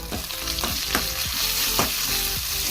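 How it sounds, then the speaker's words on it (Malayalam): Onions and chillies sizzle loudly in a hot pan as they are sautéed, with a constant crackling fry broken by rhythmic scraping strokes of a stirring spoon. "ഉള്ളിയും മുളകും കൂടി നല്ലോണം ഒന്ന് മുരിച്ചെടുക്കാം"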